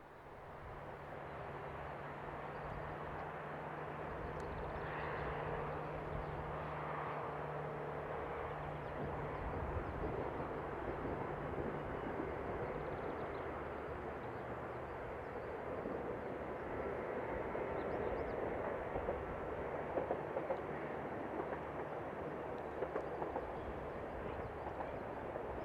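EuroCity passenger train EC85 from München to Bologna climbing the valley toward Brennero, a steady low rumble and drone of the train rolling past at moderate distance, sustained without a break and with no voices.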